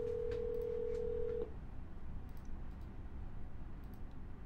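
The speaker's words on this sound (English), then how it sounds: "Let's call it back. Double dial." A phone call to a seller being dialed on a telephone, with a steady electronic tone for the first second and a half, then a quiet line with faint repeated ticks and blips.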